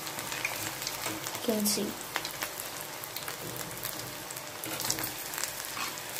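Baby corn deep frying in hot oil until golden and crispy: a dense, continuous bubbling sizzle up close, with a brief clink of a utensil and a few quiet spoken words over it.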